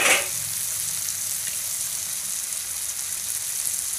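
Eggs frying in a pan with spices, softened tomato and cooked potato for anday aloo ki bhujia, a steady close sizzle with a brief louder crackle at the start.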